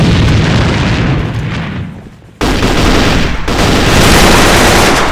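A grenade blast in the first-person shooter AVA, a loud roaring boom that fades out, then a second heavy burst of explosive noise that sustains to the end.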